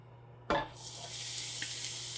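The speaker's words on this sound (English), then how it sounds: "So now that our cauliflower is in the pan, I'm going to be sure to mix it up really nicely to coat all the little cauliflower pieces in coconut oil." Cauliflower rice dropped into hot coconut oil in a pan, a sudden loud burst of hissing that settles into a steady, continuous sizzle, close by with no talk.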